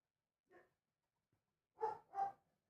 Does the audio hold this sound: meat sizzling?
no